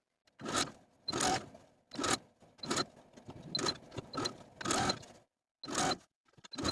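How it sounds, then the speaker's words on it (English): A sewing machine runs in short bursts while stitching a French seam on a wrap top, each run a close, whirring rattle separated by brief pauses. "Stitch slowly and carefully all the way around"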